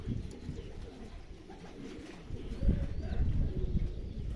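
Racing pigeons arriving home to the loft after a 342 km race from Gubin, with soft low cooing and wing flutters close by amid background rustle.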